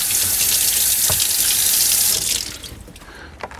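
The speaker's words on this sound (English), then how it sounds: "I'm going to clean it off in the sink." A sink tap runs hard and loud close by for about two seconds and is then turned down to a quieter flow, with a faint clunk near the end.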